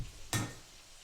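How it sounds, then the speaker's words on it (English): Bacon frying in a pan gives a sudden sharp burst of sizzle that fades over a fraction of a second, close and moderately loud, with no voices. "Oh, you can hear that bacon sizzling."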